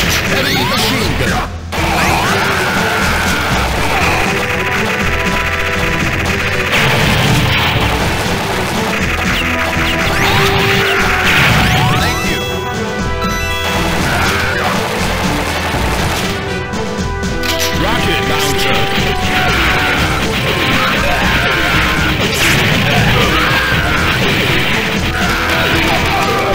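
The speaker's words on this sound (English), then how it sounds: "Heavy machine gun." Heavy machine gun fire and explosive crashes fill the Metal Slug 4 arcade game's Mission 5, loud and dense over game music, with a game announcer voice briefly heard.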